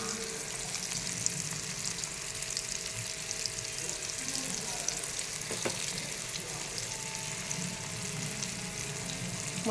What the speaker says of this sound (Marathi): आता मी इथे एक एक मच्छी करून तळून घेते. लो टू मीडियम वरती ह्याला तळून घ्यायचं आहे.